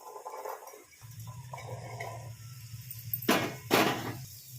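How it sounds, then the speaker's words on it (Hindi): Soaked chickpeas tumble into hot oil and fried spices in a pressure cooker, giving two loud clattering pours near the end over a low steady sizzle, with faint clinks earlier. "अब इसमें जो हमने छोले वो फुला के रखे थे उनको डाल लेंगे।"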